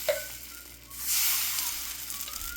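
Dark liquid plant-based bacon batter hits a hot skillet and bursts into a loud, hissing sizzle that settles into steady, crackling frying.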